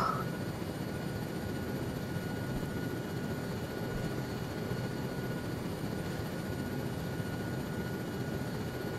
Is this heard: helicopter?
yes